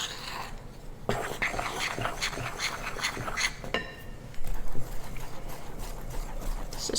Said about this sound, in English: If you've got lumps in your cocoa, for example, you can also stir this using a whisk.